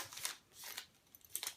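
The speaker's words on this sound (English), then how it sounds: "cut the plastic of the molding material. And you're going to just cut the ends" Scissors snip through the plastic packaging of molding material, giving a few quiet, crisp cuts with short gaps between them and no voices.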